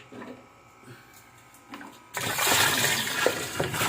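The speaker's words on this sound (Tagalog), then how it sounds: "So magdagdag pa tayo ng tubig." Water gushes loudly into the wash tub of a twin-tub washing machine, starting abruptly after a few seconds of quiet machine noise and continuing as a steady rushing pour.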